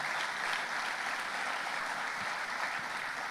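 A church congregation applauding for the Lord, a dense steady wash of many hands clapping at a moderate distance, unbroken and even throughout.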